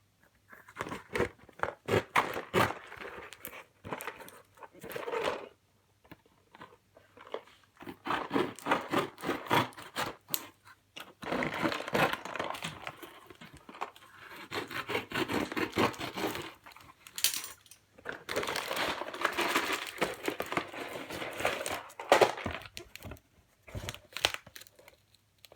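Packing tape and cardboard are ripped and crinkled close up while a taped LEGO Star Wars parcel is opened, in irregular bursts of tearing and crunching with brief quiet gaps.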